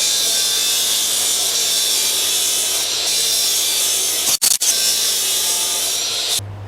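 A Makita battery power tool running on a 40 volt battery cuts through a scrap piece of wood, a loud, steady high-pitched whine broken by a brief stutter near the end, with no talking.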